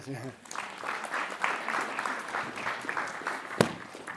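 A room of webinar attendees breaks into steady applause after a brief voice at the start, the clapping dense and continuous with one sharper clap near the end.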